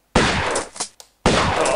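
Gunfire in the video game Tomb Raider: loud, sharp shots ring out in quick succession, with a short gap before the last blast.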